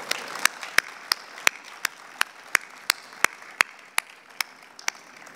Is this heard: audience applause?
yes